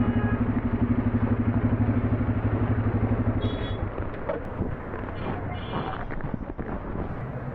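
A Bajaj Pulsar N250 motorcycle engine throbs at a steady, low rhythm, then shifts into a rougher, fluctuating rumble with faint clatter. It stays close and loud throughout, with no talking.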